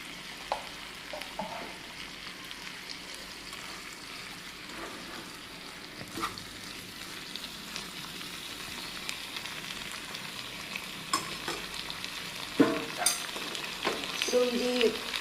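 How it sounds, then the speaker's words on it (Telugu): Taro roots frying in oil with salt, chili powder and turmeric sizzle in a steady, close hiss, with occasional scraping and stirring from a utensil in the pan and no talking. "ఇవన్నీ కలిపి మళ్ళీ కాసేపు వేపుతాను."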